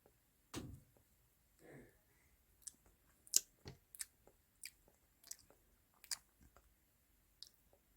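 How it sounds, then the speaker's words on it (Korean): Meat is torn and chewed up close during a mukbang, heard as faint, sparse wet clicks and smacks spaced out in near silence. "이제 이 고기를, 으흐, 떼서, 으흐, 먹어보겠습니다"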